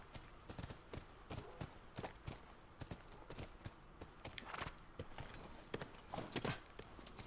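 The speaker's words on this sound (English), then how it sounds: "Now he's walking around with the horse" Horse hooves clop in a steady walking rhythm in The Last of Us, soft and fairly close, with the occasional louder step and no talk over them.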